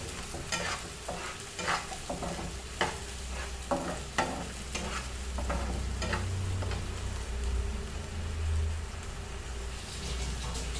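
Mustard masala for a village-style Bihari rawas fish fry sizzles in a pan as a spoon stirs it, giving crisp scraping strokes over a steady frying hiss, with no one talking.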